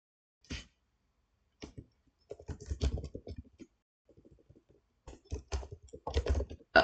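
Computer keyboard typing in irregular clusters of quick clicks, close and fairly quiet, with short pauses between bursts and no talking.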